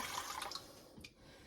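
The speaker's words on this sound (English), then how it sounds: "We're going to start off with one and a half cup of warm water." A soft, steady rush of warm water running and splashing into a container, faint and continuous, with a brief gurgle near the end; one and a half cups poured for soft pretzel dough.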